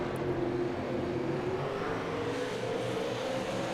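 Dirt late model race cars roar around the oval at Oxford, with steady loud engine drone and rising pitch as a pack accelerates, no talk.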